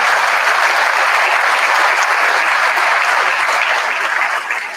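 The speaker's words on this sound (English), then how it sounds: "if we give them a round of applause, I would greatly appreciate it" Sustained applause from an audience at a school board meeting honoring a JRTC battalion, steady and full throughout with no voices standing out, easing slightly at the very end.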